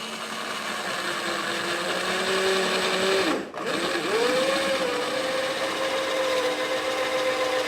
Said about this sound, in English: So we'll start drilling here and see how this goes.